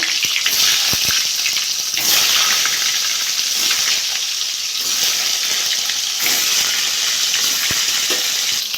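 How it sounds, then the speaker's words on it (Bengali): Pointed gourd (potol) pieces frying in hot oil, giving a loud, steady sizzle and hiss that runs the whole way through, with a few brief clicks and scrapes as the pieces are turned. "পটলগুলো আমি একইভাবে ভেজে নেব"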